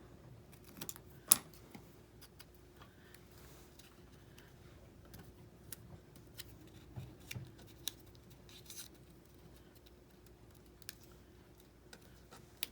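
Scissors snipping paper for layered page tabs made from Tim Holtz papers, a series of faint, irregular close clicks and short cuts in a quiet room.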